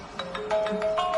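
A phone ringtone plays a short electronic melody of bright repeating tones, close and fairly soft, with no talking.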